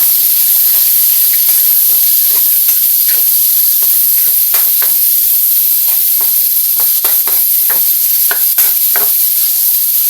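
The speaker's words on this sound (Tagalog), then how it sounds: "lagay na natin yung ating pork. Unahin natin i-fry ng kaunti" Pork sizzling and frying in a wok, a steady loud hiss running throughout with frequent scraping stir strokes and small pops.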